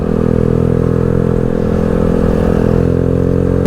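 A motorcycle engine drones loudly and steadily at close range, a constant rumbling hum with faint rattling, no voices.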